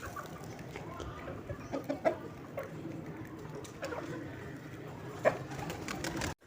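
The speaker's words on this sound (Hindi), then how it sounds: "और कबूतर भी आ गया है हमारा, और मुर्गियाँ तो हमारी सारी दाना खा रही हैं।" Backyard chickens and a pigeon peck at scattered grain, with soft clucks and scattered short bird calls over a steady low bed of ambient noise, one sharper call standing out near the end.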